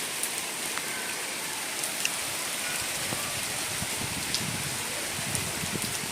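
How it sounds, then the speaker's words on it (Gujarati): Heavy rain pours steadily in Mithapur, India, a dense continuous hiss of drops on surfaces near a rooftop water tank, with no voices. "આવો જબરજસ્ત વરસાદ ચાલુ થઈ ગયો છે મીઠાપુરમાં"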